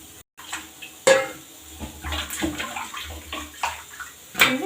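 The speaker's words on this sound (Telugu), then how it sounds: "ఎండు చేపలు నీటిలో 10 నిమిషాలు నానబెట్టి బాగా కడుక్కుందామండి" Soaked dried fish being washed by hand in a basin of water for hotel-style sambar, with repeated splashing and sloshing plus occasional clinks of a vessel, close and moderately loud.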